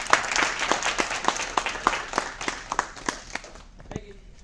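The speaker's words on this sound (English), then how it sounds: "Let's give Bruce a big round of applause" An audience applauds a guest named Bruce at the close of an appearance, steady clapping from many hands in a dense, fairly close wash of sharp claps that thins out and fades near the end.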